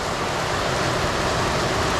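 Steady rain gives a dense, even hiss that stays loud and unbroken throughout, with no voices.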